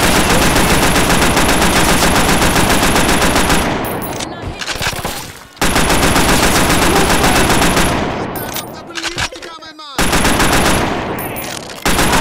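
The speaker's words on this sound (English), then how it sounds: "You better just stop shooting at me" Sustained automatic gunfire from the video game Scarface: The World Is Yours, loud and relentless rapid bursts that drop out briefly twice before resuming, with occasional shouted voices in the mix.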